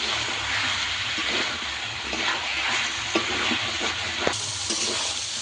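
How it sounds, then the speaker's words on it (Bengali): Chicken pieces fry and are stirred in a spice paste of cooked-down tomato for a chicken and potato curry, giving a continuous loud sizzle with occasional scraping stir sounds throughout. "মাংস দিয়ে ভালো করে আমি কষাবো,"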